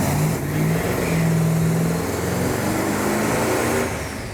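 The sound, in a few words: older car engine revving to 5,000 RPM, likely Dodge Daytona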